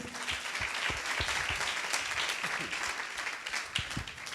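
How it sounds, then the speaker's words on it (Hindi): A church youth congregation claps for one another during a Friday service, a steady wash of clapping with scattered distinct claps, and a faint voice now and then. "सब लोग आपस में एक दूसरे के लिए ताली बजाएंगे हम लोग"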